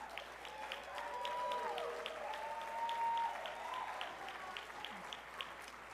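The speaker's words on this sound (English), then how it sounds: "I get better applause than that" Scattered applause from an audience at a Newark town hall meeting, moderate and steady for several seconds, with faint voices and a brief whistle-like tone mixed in.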